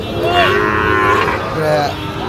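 Cattle at a Sahiwal bull market in Ambari low with drawn-out moos, two calls heard close and fairly loud over a busy background rumble.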